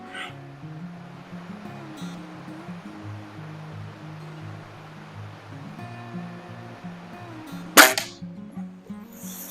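A single sharp crack from a Slavia CZ Model 631 air rifle fired at 25 yards, standing out near the end of a quiet stretch of low outdoor ambience and tonal background hum.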